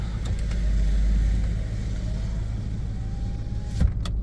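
A Toyota with a CVT, running unstable with an acceleration sensor fault, idles with a steady low engine hum close by, a faint rising whine drifting across it and a few light clicks near the end.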